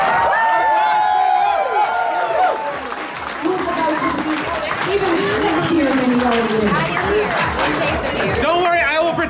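A crowd applauds and cheers, dense clapping and shouts with voices and chatter mixed in throughout.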